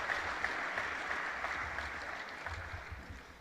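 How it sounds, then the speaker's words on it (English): Faint, steady applause from an audience at a staff awards ceremony, continuing evenly for a few seconds at a distance. "Please give them a round of applause."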